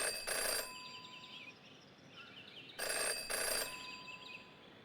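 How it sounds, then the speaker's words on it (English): A telephone rings inside a phone booth in the Jenny LeClue game, two long bright bursts of electric bell ringing separated by a pause, loud and close with a faint background. "Jenny had learned never to ignore a ringing phone"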